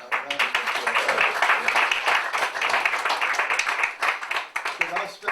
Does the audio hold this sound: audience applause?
yes